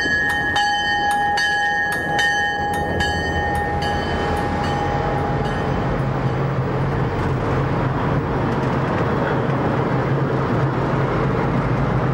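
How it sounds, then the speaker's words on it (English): A passenger train bell rings repeatedly at a mountain village stop, a series of bright, evenly spaced strikes over a steady rumble of the train, then the ringing fades and the rolling noise continues alone. "The loud ringing of the train rudely interrupts the tranquility of this mountain village."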